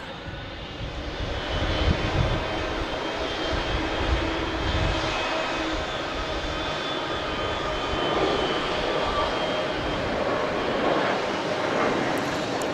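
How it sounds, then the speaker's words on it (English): A United Airlines Boeing 737 MAX 8 jet at Logan Airport at night gives a loud, steady engine roar that holds broad and constant throughout, close and continuous. "Oh, United Airlines heading to New York."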